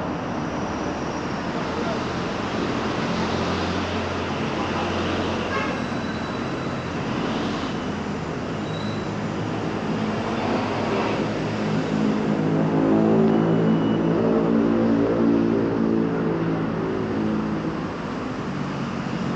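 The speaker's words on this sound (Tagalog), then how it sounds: "Dito marami mga sasakyan no," Heavy traffic streams past the sidewalk on Taft Avenue in Manila near Adamson University, a loud continuous roar of engines and passing vehicles with a swelling pass-by midway, someone talking over it.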